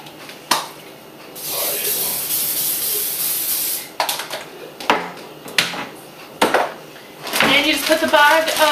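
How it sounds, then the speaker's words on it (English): Cooking spray hisses from a can into a baking pan in a steady burst of about two and a half seconds, followed by clattering pan and kitchen handling sounds and a brief later spray. "in a pan, I'm going to spray it real quick"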